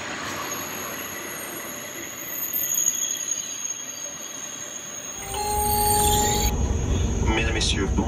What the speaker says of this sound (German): wer hätte gedacht, dass ich mal mit dem TGV fahre?